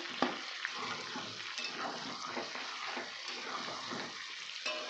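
Onion and green chili frying in a pan for a Bengali egg curry, giving a close, continuous crackling sizzle with small pops throughout.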